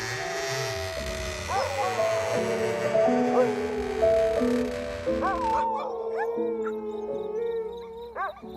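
Several dogs bark and howl outdoors at night, long wavering howls overlapping with yelps and whimpers, moderately distant, beneath a steady hum and a talking voice.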